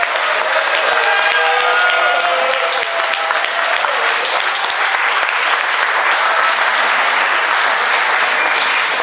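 An audience at an orchestra concert in La Grand Combe gives loud, sustained applause that fills the whole stretch evenly, with faint musical tones underneath early on.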